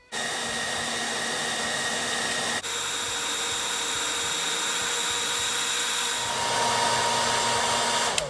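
A hair dryer runs continuously as a steady loud whir, heating up to soften a custom wrestling action figure, with a brief dip partway through and a slight shift in pitch near the end.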